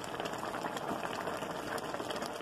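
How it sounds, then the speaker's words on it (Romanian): Steady bubbling of pumpkin boiling in a pot on the stove, a continuous dense simmer with no pauses, close and moderately loud. "Aici, între timp, dovlecelul fierbe"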